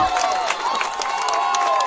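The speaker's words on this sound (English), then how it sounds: "I love to hear this hometown crowd" Hometown crowd at a high school homecoming football game between Walnut and Alcorn Central, a steady roar of cheering and clapping from the stands filling the stadium, with commentators talking over it.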